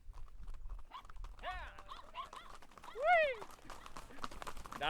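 Hooves clip-clop on a long horse ride near Viñales, Cuba, with a horse whinnying clearly partway through and faint background sounds throughout.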